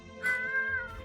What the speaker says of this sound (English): There's a cat in here.